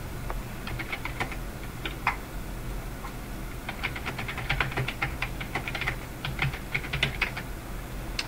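Keys clatter on a computer keyboard in irregular bursts, typing a short line of text at close range, fairly soft against a steady background hiss.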